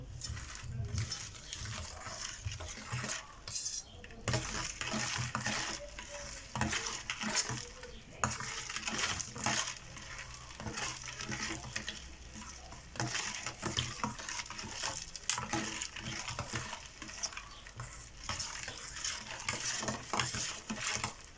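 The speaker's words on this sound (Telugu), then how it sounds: "బెల్లం కరిగేదాకా కొంచెం ఇలా కలిపేసుకుంటే మనకు ఉగాది పచ్చడి రెడీ అయిపోయినట్టు" A spoon stirs Ugadi pachadi while jaggery melts, making a steady, faint scraping and clinking against the pot that keeps going throughout.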